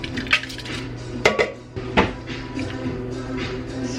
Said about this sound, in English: I'm going to just kind of mix this all together in here. I'm going to add my can of mixed vegetables.